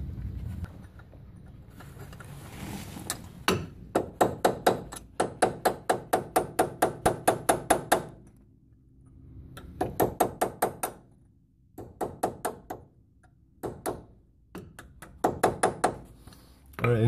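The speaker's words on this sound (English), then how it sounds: "So I'm gonna go ahead and punch this out here now." Repeated hammer blows on a metal punch driving out a stuck cotter pin, ringing metallic taps in fast rhythmic bursts of about a dozen strikes separated by brief pauses, close and loud.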